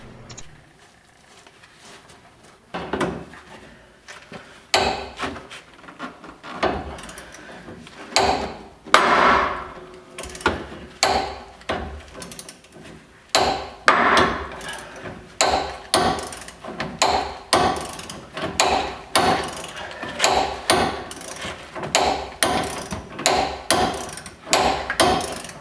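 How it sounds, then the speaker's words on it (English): A sledgehammer pounds on a ball joint press tool, shocking rust loose while a lower ball joint is removed from a Ford F150. Sharp metallic blows start sparse and grow into a fast, steady run of strikes, close and loud. "I'm going to take my sledgehammer and pound on the top of that tool to kind of break loose, shock loose the rust"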